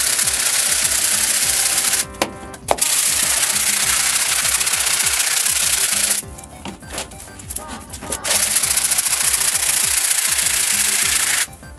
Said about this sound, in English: I really wished I hadn't waited this crazy long just to scrub my mouse mat.